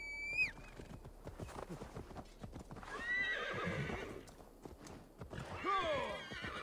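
A horse in Assassin's Creed Valhalla neighs three times, with shrill whinnies at the start, middle and end, while hooves clip-clop steadily underneath at close range.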